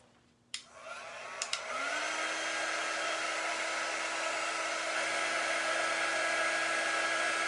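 A hair dryer switches on with a click and spins up, then blows a steady, loud whoosh with a constant whine while it dries a pasted craft transfer, continuing without any talk.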